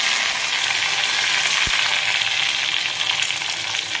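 Curry leaves crackle in hot oil with mustard seeds and cumin as a tempering for Chennai-style idly chicken soup, a steady close sizzle with one sharp click midway and no talking.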